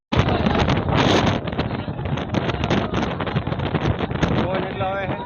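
Strong wind at the Ambaji temple buffets the microphone in loud, rough gusts, with a person speaking over the roar throughout.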